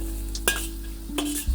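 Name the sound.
carrots and celery sizzling while stir-fried in a wok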